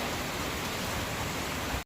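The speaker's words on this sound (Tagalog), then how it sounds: "Dito umuulan." Steady rain falling outdoors near a food stall, a dense even hiss that fills the short stretch and then cuts off abruptly.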